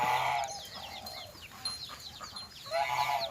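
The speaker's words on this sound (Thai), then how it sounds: "มีห่านมีเป็ดมีไก่นะครับ" Chickens cluck on a small rural farm where geese and ducks are also kept, with overlapping calls at moderate distance that rise, thin out, then swell again.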